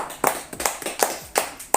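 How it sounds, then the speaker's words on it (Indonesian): Students in a classroom clap in an even rhythm for a classmate, six or seven sharp, close claps in quick succession with no talking. "Beri tepuk tangan untuk teman kita Fauzan"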